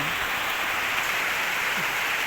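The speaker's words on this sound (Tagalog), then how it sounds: "Lakas ng ulan." Heavy rain pours steadily and loudly, a dense unbroken hiss that holds at the same level from start to finish with no voices.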